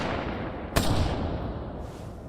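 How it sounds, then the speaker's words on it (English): A single sharp gunshot cracks once over a steady background rumble, sounding from outside a school gymnasium in a played recording. "There's gunshots that happen outside of the gymnasium."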